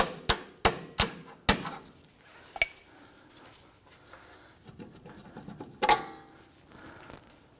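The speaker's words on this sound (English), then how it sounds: "I'm just going to use our small punch right in the center and just work that bolt through." Metal hammer blows on a punch against a control arm bolt of a 2004-2008 Acura TL: four quick close strikes, then a lone hit, faint scraping and clinking of parts, and a final louder clang.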